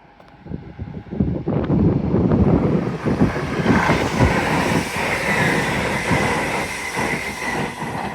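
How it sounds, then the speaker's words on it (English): A Lumo Class 803 electric train passes through Doncaster station on the East Coast Main Line, a loud, sustained rumble and rush of wheels and air building quickly and continuing steadily throughout. "Pass through now is a Lumo class 803 from London King's Cross to Edinburgh Waverley."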